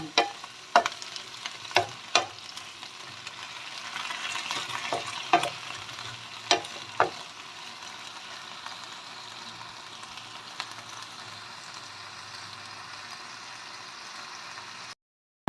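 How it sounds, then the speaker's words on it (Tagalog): Vegetables sautéed with garlic in a hot pan give a steady close sizzle and frying hiss throughout, with sharp utensil scrapes and clinks in the first several seconds, then continuous sizzling alone until an abrupt stop. "Igisa lang siya ng bawang."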